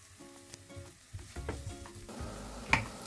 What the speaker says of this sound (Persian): هرچی پیاز بیشتر خب مسلما خوشمزه تر میشه. سرخ میکنم و برمیگردم.